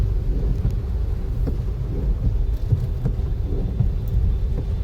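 Steady rain falls on the Chhapi highway, a dense continuous wash of patter with scattered faint low rumbles and occasional passing traffic, even and moderately loud throughout.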